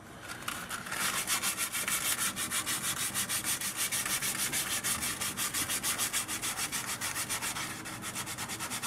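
Sandpaper rubbed back and forth on a wooden pipe stem, a close, steady rhythmic rasp with even repeated strokes throughout.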